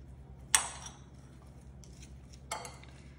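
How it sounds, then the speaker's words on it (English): Spoon scraping and clinking against a crockpot while stirring Coca-Cola chicken, two distinct metallic scrapes about two seconds apart over a quiet kitchen hum. "Give her a quick little stir."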